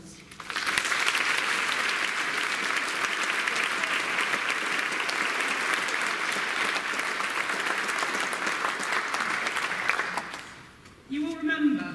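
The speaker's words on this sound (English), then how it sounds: "Please could we show our thanks to them by giving them a round of applause." A school Speech Day audience applauds the staff in a long, steady round of clapping that swells quickly, holds for about ten seconds, then fades as a voice begins speaking.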